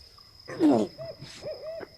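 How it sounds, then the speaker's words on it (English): Birds hoot like an owl, one fuller call followed by a few softer, shorter hoots in a quiet setting. "Birds! Can you shut up and let a guy sleep?"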